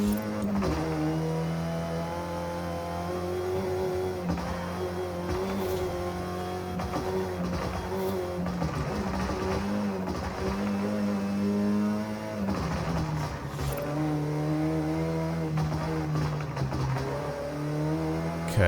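A front-wheel-drive A class race car in a racing video game, its engine droning steadily and rising and falling in pitch through gear changes, close and continuous for the whole stretch.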